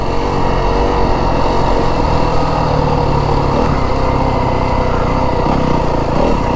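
A 2025 Yamaha WR250F dirt bike engine lugging in low gear on a desert ride, a steady close, loud droning thrum that holds an even pitch without revving up, with no voices over it.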